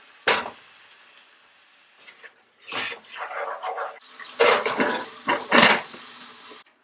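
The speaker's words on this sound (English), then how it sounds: "I'm gonna add like a little bit of water." A little water is poured into a cooking pot of onions and garlic, several short splashing and gurgling bursts separated by quiet gaps, close and moderately loud.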